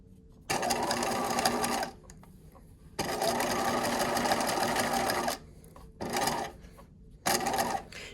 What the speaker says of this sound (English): take a moment while you're sewing with your needle in and lift your presser foot